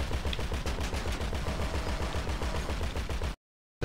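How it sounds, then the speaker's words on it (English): Fast, steady automatic gunfire in Grand Theft Auto 5 Online, a dense continuous stream of shots that stops abruptly near the end before briefly resuming. "They're shooting at me."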